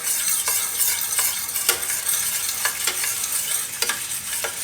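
Maida flour roasting in a pan while a spoon stirs it, a steady dry hiss with sharp scraping strokes every second or so, close and moderately loud, no voices.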